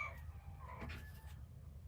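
Chickens cluck and fuss close by in a short, steady burst of bird chatter against a low background hum.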